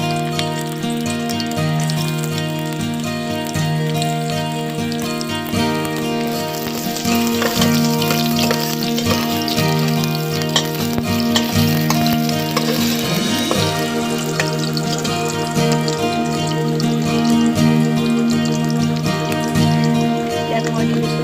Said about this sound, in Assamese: তেল গৰম হৈ গ'ল, মই ইয়াত দিছোঁ এতিয়া পিঁয়াজ,